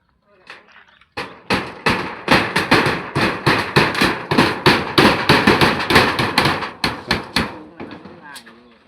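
Nails hammered into the last sheets of a kitchen roof outdoors, a rapid run of sharp, loud strikes in an uneven, hurried rhythm, several blows overlapping, with a faint voice at the start and end.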